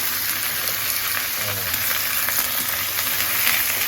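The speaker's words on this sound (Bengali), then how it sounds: "এবার কুমড়ো আর আলুটা ফেলে দিয়ে ভাজবো" Pumpkin and potato pieces frying in a pan, a loud, dense, unbroken sizzle close up with faint stirring underneath.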